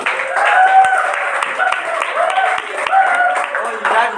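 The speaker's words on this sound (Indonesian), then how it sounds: "Yuk, tepuk tangan untuk kelompok 6." A class claps for group 6 in a photography lesson, a scattered, moderately loud patter of hands with voices chattering over it throughout.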